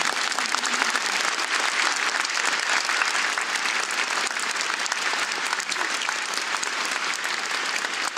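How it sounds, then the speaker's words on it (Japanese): A concert audience applauds warmly at a live stage show, dense sustained clapping from a large crowd filling the whole stretch at an even, moderately loud level with no talk. "温かい拍手をお願いします"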